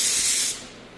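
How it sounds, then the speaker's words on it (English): An FLG4 paint spray gun lays a thick coat of finish paint with a loud, close, steady hiss that cuts off sharply halfway through, leaving a faint room tone. "Finish spraying here. This spray gun works really well."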